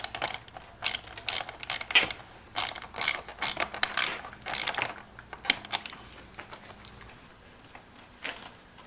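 A ratchet wrench tightens a 6mm nut on a Ducati ST4 motorcycle being built as a cafe streetfighter, giving quick bursts of close, crisp clicking in short irregular runs that thin out toward the end.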